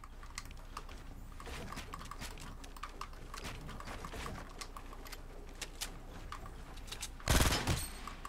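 Rapid gunfire in a Fortnite duo Battle Royale match: a steady run of sharp, crisp shots and clicks, with a louder, heavier burst near the end and no talking.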